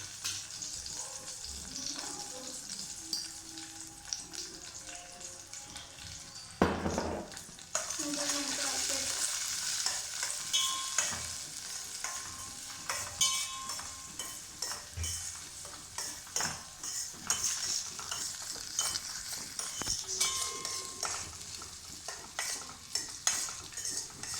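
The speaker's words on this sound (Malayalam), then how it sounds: "അതിലേക്ക് തേങ്ങാക്കൊത്ത് ഇടയിടും." Pieces of coconut sizzle and crackle in a hot pan while a utensil stirs and scrapes against the metal in intermittent bursts, with a louder clatter midway; no talking.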